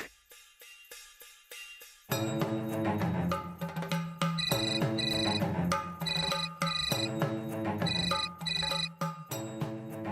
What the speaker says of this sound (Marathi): फोन का उचलत नाहीयेत